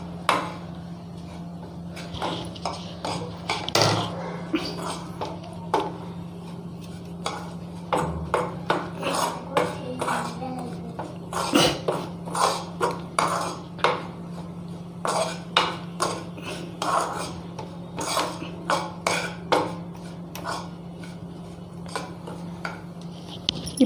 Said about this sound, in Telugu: శనగపిండి వేసాక ఇలాగ బ్యాటర్ని బాగా కలుపుకోవాలి